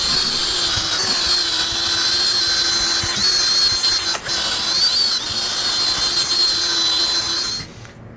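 A power drill with a buffing attachment polishes a guitar body, a steady close whine with a high tonal edge running unbroken for about seven seconds before cutting off near the end.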